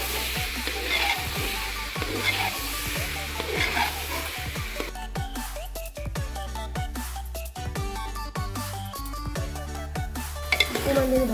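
Meat and soaked rice fry together in a pan with a loud, close sizzle, joined by repeated sharp stirring scrapes and clinks of a spatula against the pan in an uneven rhythm throughout.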